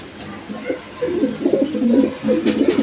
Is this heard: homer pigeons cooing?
yes